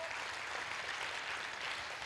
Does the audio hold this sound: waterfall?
no